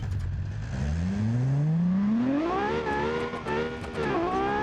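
A rear-engine super SUV in the Automation/BeamNG driving game held at full throttle, the engine note climbing steadily in pitch as it revs up through the gears, loud and continuous with no talk.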